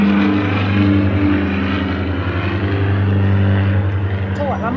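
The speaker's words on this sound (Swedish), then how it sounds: "Jävla flygplan som ska förstöra för mig." A propeller airplane drones overhead outdoors beside water, a steady low engine hum holding loud and even throughout with no break.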